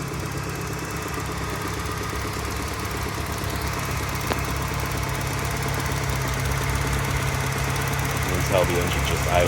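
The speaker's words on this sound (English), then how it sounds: "You can tell the engine just idles super smooth." A 1994 Saab 900 Turbo Convertible engine idles smoothly and steadily at close range, a low continuous rumble with no talking.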